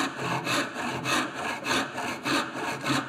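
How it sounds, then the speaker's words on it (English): A 14-inch crosscut handsaw cuts through wood in even back-and-forth strokes, about six rhythmic rasping passes, close up and with no speech. "So I go to a crosscut saw now."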